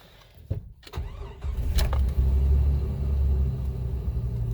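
A 1998 Jeep Wrangler Sport TJ 4x4 with a 5-speed manual cranks briefly, fires, and settles into a loud, steady low rumbling idle, heard from inside the cab.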